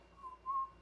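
A faint, thin whistle, two short breathy tones with a weak pitch, quiet and close, with no other sounds.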